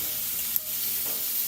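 Skin-on chicken sizzling on a grill, a steady loud hiss of fat and searing meat with one brief knock partway through, no voices.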